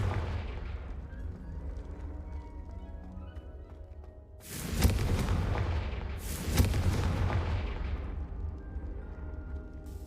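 A Confringo fire-spell blast in a Harry Potter video game: two heavy, booming bursts about two seconds apart over a low rumbling game backdrop, each trailing off in a fiery roar, with no voices.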